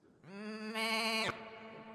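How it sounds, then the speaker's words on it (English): A tin farm-animal can toy gives a loud sheep bleat, a single drawn-out, wavering baa that swells in the middle and cuts off sharply, with a faint tail afterward and no talking. "that old toy where, really crappy toy if you think about it, where you have a little can like this with a farm animal on it"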